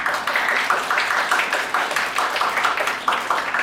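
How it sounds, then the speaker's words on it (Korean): An audience at a youth camp concert claps for a mentor, a full, steady roll of many hands, fairly loud and sustained without a break. "성대 멘토님께 박수 한번 부탁드리겠습니다"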